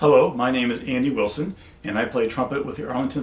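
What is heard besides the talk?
No everyday noise stands out behind the speech.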